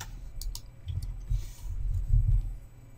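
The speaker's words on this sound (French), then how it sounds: "Donc je clique dessus." Mouse clicks while working in OpenOffice, a few sharp clicks near the start over a low steady hum, no talk.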